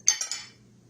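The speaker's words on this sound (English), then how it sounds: "I always stick my fork in there to split it open" A fork splits open a baked bacon cheese biscuit, giving three quick, light metallic clinks close by, each fading fast into near silence.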